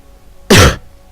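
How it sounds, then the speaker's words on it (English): A single short cough or throat-clearing burst from a person with bad allergies, close and loud, lasting about a quarter second against near silence. "Please excuse my coughing."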